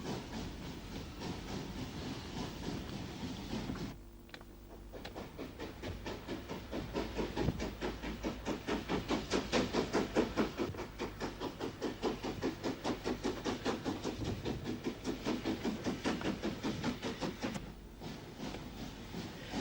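A steam locomotive works along a main line in Ulster, its exhaust beats rising into a rapid, steady chuffing with hissing steam and rail noise, fairly close and loud, and a brief lull early on.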